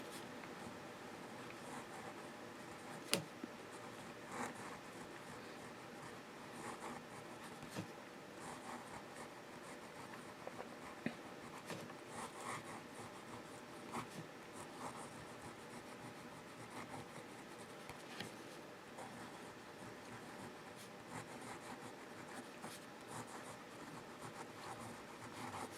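A Wing Sung 9120 fountain pen with a gold nib writes on paper, giving a faint, steady scratching and rubbing with a few small ticks of the nib lifting and landing, heard alone in a quiet room.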